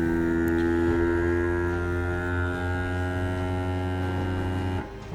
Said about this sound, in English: Turn on the Grabo.